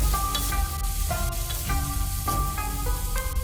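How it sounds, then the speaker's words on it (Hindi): Almonds and raisins fry in a pan for Kabuli pulao, giving a steady, close sizzle with a few light clinks and stirring sounds throughout. "साथ ही बादाम और किशमिश भी शामिल कर देंगे और इसे मज़ीद 1 मिनट तक के लिए फ्राई कर लेंगे"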